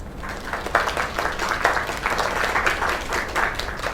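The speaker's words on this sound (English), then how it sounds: "Another round of applause." Audience applause in the video game Lake, a steady patter of many hands clapping at moderate loudness, heard on its own without speech.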